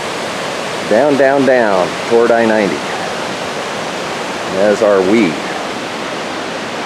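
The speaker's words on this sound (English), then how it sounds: "Talapus Creek heading down" Talapus Creek rushes in a steady, full broadband wash along a hiking trail, holding constant beneath a few short bursts of conversation between hikers.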